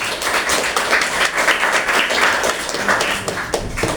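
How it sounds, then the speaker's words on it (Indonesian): An audience at a mosque gathering in a residential complex applauds a guest, dense steady clapping filling the room at close range for several seconds with little talk. "Tepuk tangan dulu untuk Kang Budi."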